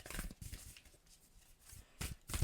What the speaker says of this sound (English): So I'm just slightly shuffling behind the camera